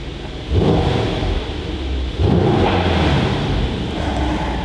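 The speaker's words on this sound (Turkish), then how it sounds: "Çok şahane bir egzoz sesimiz var ya." Mercedes-AMG GT 63 S engine and exhaust revving in two loud, close bursts, each swelling then settling back to a steady rumbling idle, with no talk over it.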